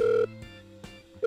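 Telephone ringing in the Minecraft video game, a clean electronic ring in two short bursts separated by a pause, fairly quiet and alone.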